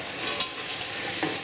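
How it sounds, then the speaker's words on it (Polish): Steady frying sizzle of mushrooms in a pan, with a soft stir or scrape now and then; close and continuous, no voices. "Pieczarki się smażą, możemy też dorzucić po krojoną cebulę."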